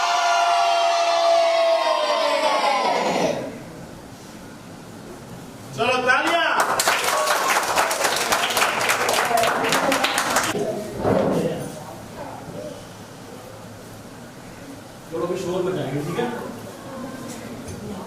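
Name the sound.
children clapping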